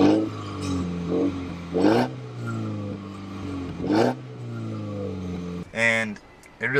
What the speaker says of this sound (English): So I'm going to play a little bit of the exhaust on normal mode right now.